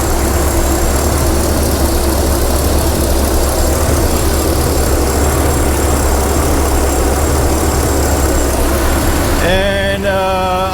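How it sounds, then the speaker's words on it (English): Shop exhaust fans run with a loud, steady, droning roar that holds constant throughout, then shifts near the end as a different whine with wavering tones takes over. "The exhaust fans just came on."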